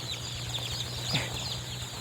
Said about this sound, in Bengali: দেখেন এই মুরগিটা খুব ইন্টারেস্টিং